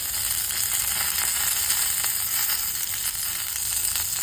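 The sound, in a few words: curry leaves sizzling in hot oil with fried chillies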